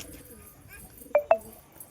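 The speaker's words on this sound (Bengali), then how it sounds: "বাড়ির কবুতর" House pigeons coo softly, with two short, louder calls close together near the middle against a quiet indoor background.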